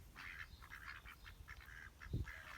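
Young, half-grown ducks on a farm quack in a run of short, repeated calls, close and moderately loud. One deeper thump lands near the end.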